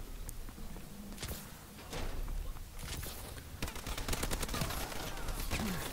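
PDW gunfire in Call of Duty: Advanced Warfare during a Gun Game match, heard as rapid bursts of shots over a steady bed of game noise and footsteps, with the firing growing denser toward the end.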